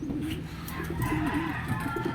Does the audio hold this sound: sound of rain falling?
no